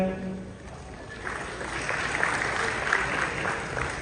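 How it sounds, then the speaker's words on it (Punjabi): A crowd at a World Teachers' Day state award ceremony breaks into strong, sustained applause after a speaker's voice, the clapping swelling and holding steady to the end. "ਜ਼ੋਰਦਾਰ ਤਾੜੀਆਂ"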